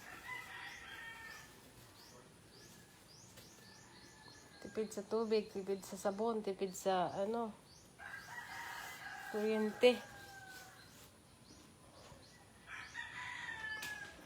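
A rooster crows in long drawn-out calls around the middle, with clucking and other bird sounds nearby while a person speaks over parts of it.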